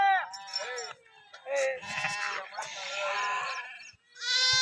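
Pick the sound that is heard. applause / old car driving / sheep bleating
sheep bleating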